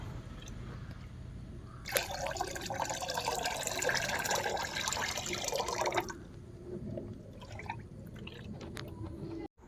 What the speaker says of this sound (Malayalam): ഇനി നമുക്ക് ഈ വെള്ളം ഒന്ന് നന്നായി ഇളക്കി കൊടുക്കാം.